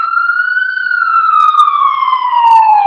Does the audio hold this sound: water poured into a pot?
no